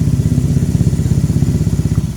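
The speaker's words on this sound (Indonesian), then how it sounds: "kita akan coba hidupkan motornya dan kita pastikan berapa untuk arusnya" A Honda scooter engine, kick-started without a battery, idles close by with a steady, rapid low putter and light mechanical clatter throughout.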